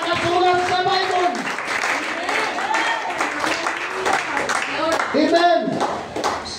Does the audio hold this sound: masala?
no